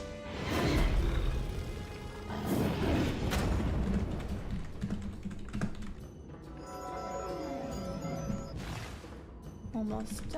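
Fast keyboard typing clatters under a person's speech and game sounds while someone plays Wizard101, the keystrokes dense and fairly close.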